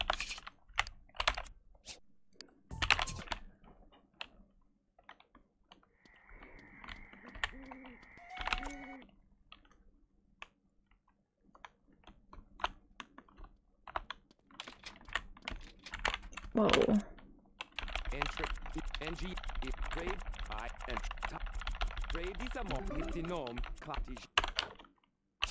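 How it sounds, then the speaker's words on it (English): Computer keyboard typing comes in irregular bursts of close, crisp key clicks with quiet gaps between them. Sustained clattering fills the last stretch, and faint background sounds occasionally mix in. "The keyboard feels really nice."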